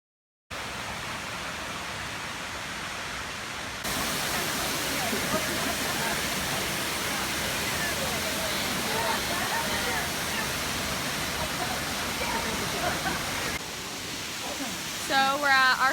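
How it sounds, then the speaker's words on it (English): Looking Glass Falls in Pisgah, heard as a steady, loud, broadband roar of falling water that grows a bit louder after a few seconds, with faint voices near the end. "So we're at our first waterfall. The Looking Glass."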